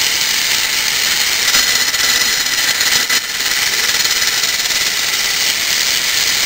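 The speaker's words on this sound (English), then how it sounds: "Now we bring it into second gear. Now see how fast that's spinning." A Lego three-speed transmission spins in second gear, producing a steady, loud whirring mechanical buzz that holds constant throughout with no voices.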